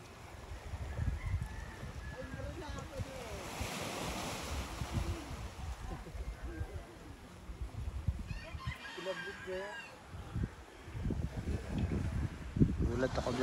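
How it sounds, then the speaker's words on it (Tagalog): Gentle sea surf washes steadily near a beach hut, with wind noise and a rooster crowing in the distance while people talk over it. "Banayad ang dagat."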